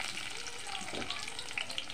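Garlic pieces fry in hot oil with a steady, close sizzle and crackle that holds evenly for the whole stretch, with a few brighter pops near the end.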